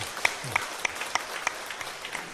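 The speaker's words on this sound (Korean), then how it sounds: "우리 한번 찬양대회에서 크게 박수 좀 보내주세요." A church congregation at a Sunday worship service applauds its choir of about thirty-one singers: a sparse, fairly even run of distinct claps, a few hands slightly out of step, thin rather than roaring.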